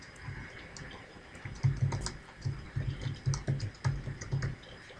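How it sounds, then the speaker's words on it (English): Keystrokes on a computer keyboard, a run of close, distinct clicks in short bursts with a steady rhythm, typed up close over a quiet room with no talking. "so that's what we have to type right here."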